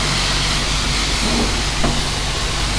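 Steady broadband hiss of a car wash spray wand rinsing a Toyota Tacoma, constant and loud throughout with a faint tonal hum underneath.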